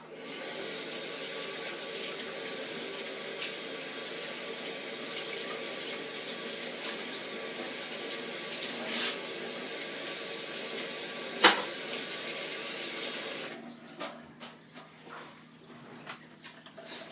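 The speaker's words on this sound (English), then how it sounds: "my next job is a quick hand wash" Hands being washed under a running kitchen tap, a steady rushing hiss of water for about thirteen seconds, broken by a couple of brief splashes, then shutting off into soft, sparse handling noises.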